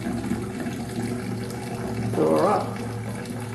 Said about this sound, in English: Put in some hot water.